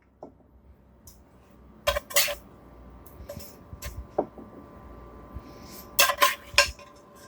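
Brussels sprouts mixed with their pan juices are scooped onto a plate, making a few clinks of utensil against dishware clustered near two and six seconds over quiet kitchen background.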